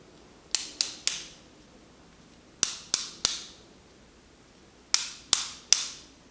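Bodhrán played with a hot rod tipper striking the wood, three quick sharp clicky triplets spaced evenly apart, each hit bright and close with a short decay over quiet background.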